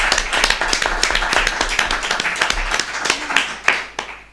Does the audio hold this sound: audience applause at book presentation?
yes